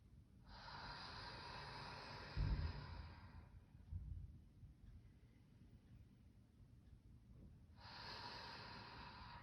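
Slow, deep breathing during a seated chair yoga stretch: a long soft airy inhale, a pause with a couple of faint nasal puffs, then another breath starting, all quiet and close.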